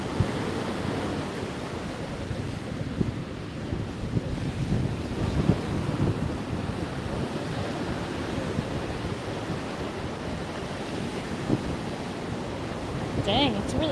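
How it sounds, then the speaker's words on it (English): Strong wind roars and buffets steadily at a beach, with the broad wash of surf underneath, loud and continuous throughout. "Dang, it's really windy."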